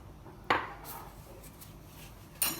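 A utensil clinks twice against a bowl while cake batter of cornstarch, sugar and eggs is mixed, two sharp knocks about two seconds apart over a quiet background.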